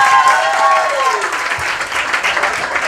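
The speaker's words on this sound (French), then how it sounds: "tapez les mains très très fort pour Malala" Audience at a high-school youth challenge clapping hands for team Malala, a loud, sustained crowd of clapping that follows a fading tonal sound, with a voice briefly audible.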